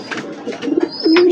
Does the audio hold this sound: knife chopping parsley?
no